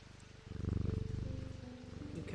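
A cat purrs in the video game Mimicry, a steady low rumbling hum that swells slightly and carries on throughout, with faint background game sounds.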